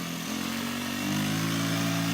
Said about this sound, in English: I got an 80 dirt bike that's behind me.